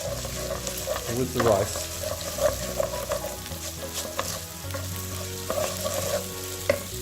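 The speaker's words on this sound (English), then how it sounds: "It's important that you fry the turmeric" Rice and turmeric frying in a pot for a one-pot chicken tikka biryani, a steady close sizzle with stirring scrapes throughout, and a brief voice speaking over it.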